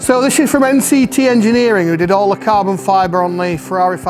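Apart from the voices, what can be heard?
None of the usual background noises is heard.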